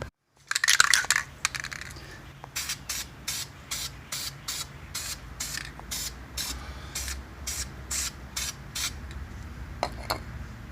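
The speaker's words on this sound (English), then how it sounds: "We're going to prime it and throw on 1 or 2 coats of red." A spray can primes a brake caliper in a string of short, sharp hissing bursts at a steady pace after an initial rattle and longer spray, close and clear.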